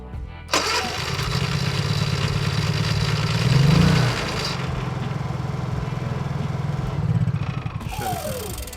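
A Honda EU3000iS inverter generator starting up by remote and running, with a steady close mid-pitched engine drone that swells briefly around the middle before settling.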